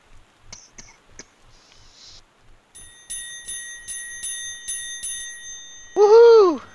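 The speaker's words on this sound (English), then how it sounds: "Ringing that bell." A bell in a video game rings several times in a steady sequence, each strike bright with sustained tones; footsteps and small clicks come before it, and a sweeping rising chime follows at the end.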